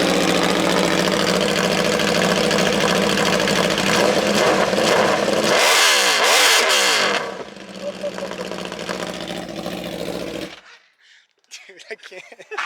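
A loud Italian motorcycle with almost no exhaust roars and revs close by, with a sweeping rev rise and fall midway before the noise drops away. People talk in the background.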